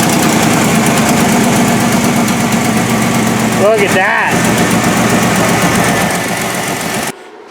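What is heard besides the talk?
V6 engine running with exhaust leak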